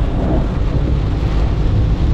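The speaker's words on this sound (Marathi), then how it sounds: "आणि पाऊस बघा तुम्ही किती हेवी पाऊस आहे बघा" Steady, dense roar of heavy monsoon rain in Ratnagiri with deep rumbling underneath, constant and loud throughout with no breaks.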